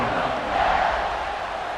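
Stadium crowd in the College Football 26 video game roaring at kickoff, a dense, steady wash of cheering that swells slightly midway through and stays loud throughout.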